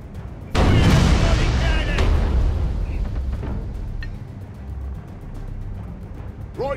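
A small ship's cannon fires in the naval video game Furious Seas, one heavy booming blast followed by rumbling decay and scattered impacts, with a voice talking faintly.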